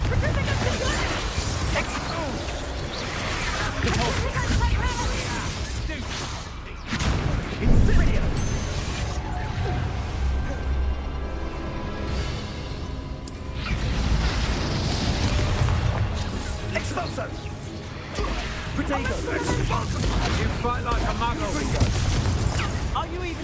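Confringo blasting spells explode in a Hogwarts Legacy fight: repeated deep booms and bursts over dense, continuous combat noise, with voices talking throughout.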